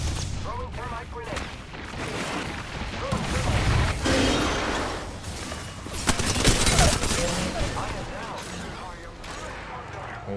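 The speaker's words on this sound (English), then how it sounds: "Shots fired, and they're hitting me." Video game gunfire striking the player: a dense, continuous run of shots and impacts with mechanical clatter, swelling louder midway, under ongoing talk.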